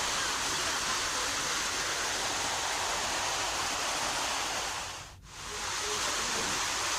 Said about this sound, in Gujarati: ડુંગર ઉપર મુશળધાર વરસાદ વરસતા પગથિયા ઉપર વરસાદી પાણી વહેતા થયા.